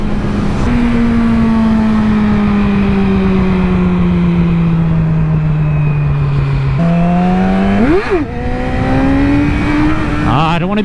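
Yamaha R6 motorcycle engine held high in the revs, a loud continuous whine that slowly sags in pitch, then dips and jumps back up in a couple of quick rev changes.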